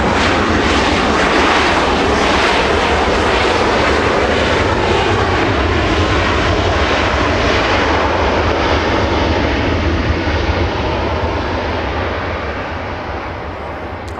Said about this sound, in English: British Airways, Speedbird 269 are arriving about 40 minutes late